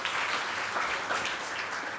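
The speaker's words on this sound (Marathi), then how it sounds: "वेदिकासाठी एकदा टाळ्या वाजायला पाहिजे" An audience at a guidance talk claps together in a steady, even burst of applause for a young participant, moderately loud and filling the room throughout.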